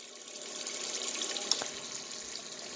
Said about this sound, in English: We're filling up for the rinse.